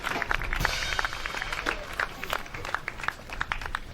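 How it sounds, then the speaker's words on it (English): Audience applause at an award event for the best college in Nigeria, a steady wash of clapping from a crowd that carries on evenly for the whole stretch at moderate loudness. "Sir Uzaka Alfred, a round of applause for him."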